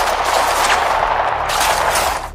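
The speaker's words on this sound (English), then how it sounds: "Gunfire resumes." Loud, dense gunfire from an audio drama, rapid automatic bursts that roll together without pause before trailing off at the end.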